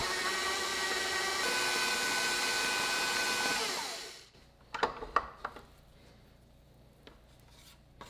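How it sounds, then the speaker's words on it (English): A stand mixer fitted with a paddle attachment beats cheesecake batter at medium-high speed, a steady whirring hum that stops abruptly partway, followed by faint clinks and knocks. "Using the paddle attachment, he raises the bowl and begins blending on medium-high speed"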